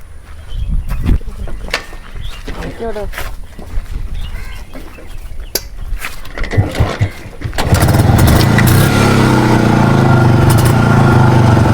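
A 1979 Yezdi motorcycle engine kicks into life after several seconds of chickens clucking and background chatter, then settles into a loud, steady, close-up running idle.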